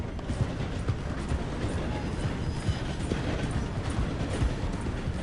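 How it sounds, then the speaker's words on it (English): A steam train slows as it approaches a station in the video game Red Dead Redemption 2, giving a continuous rumbling clatter of wheels and carriages, with what sound like hoofbeats mixed in. "The train is slowing down to go through the station."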